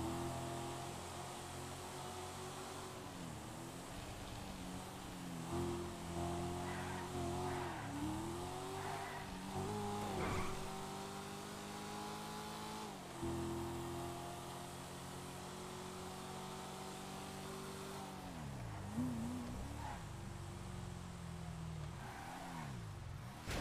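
A car in a FiveM GTA roleplay game drives with a steady engine drone that repeatedly revs up and drops as gears shift, with brief tire squeals, loud and continuous throughout.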